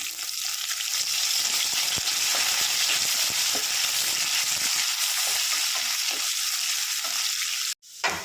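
Chopped ginger and garlic hit hot oil with fried coconut pieces, giving a loud, steady sizzle that holds for most of the time before cutting out briefly near the end.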